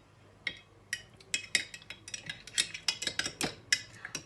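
A spoon clinks and scrapes against the sides of a glass while a drink is stirred, giving a quick run of bright, close ticks that grows busier as it goes, with no voices.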